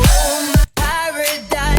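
An electronic music drop is carried by a heavy bass line, with thick, pulsing low notes that swell and cut out in a quick rhythmic pattern, loud and close.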